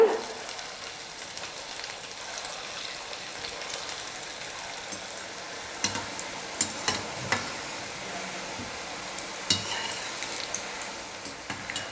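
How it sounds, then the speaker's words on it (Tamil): Egg and potato snack dough frying in oil, a steady soft sizzle throughout with occasional sharper pops and clicks of stirring near the middle and end, no voices. "இதே போல் திரும்பவும் எண்ணெயில் போட்டு பொரிச்சு எடுத்துக்கலாம்"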